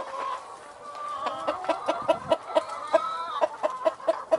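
Easter Egger rooster clucking in a steady run of short, evenly spaced calls, fairly close and clear, with no talking.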